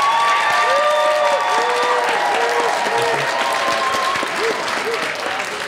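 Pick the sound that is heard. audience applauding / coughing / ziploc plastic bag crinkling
audience applauding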